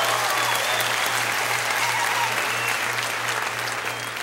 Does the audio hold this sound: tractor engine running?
no